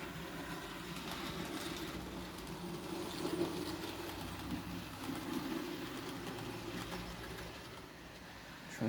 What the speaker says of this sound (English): Train's running through quite nicely.